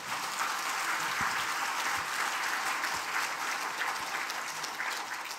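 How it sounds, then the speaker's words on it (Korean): A church congregation claps for its pastor in a sustained, even wash of applause lasting several seconds, with a few sharper claps standing out against the dense hall sound. "우리 목사님한테 올해와 같은 박수 부탁합니다"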